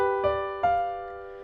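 A G dominant seventh chord is struck twice in quick succession, then rings on and slowly fades, clear and alone.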